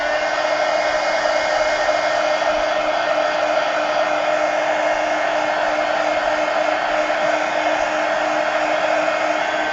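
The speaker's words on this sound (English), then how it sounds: "hey CB, let me dry this" A hair dryer runs steadily and loudly at close range, blowing to dry paint on a decorated pumpkin during mixed media collage work, with an even, unbroken whir throughout.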